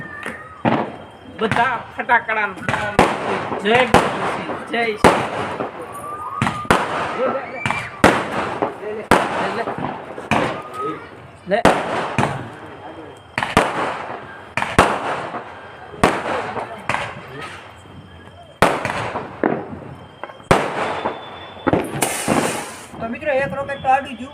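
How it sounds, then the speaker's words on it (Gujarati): Diwali rocket fireworks set off in a village celebration, giving repeated sharp bangs and crackling bursts at an irregular pace throughout, with people talking over them. "આપણે હવે જો રોકેટ છે ને આકાશમાં ચડાવવાનું છે"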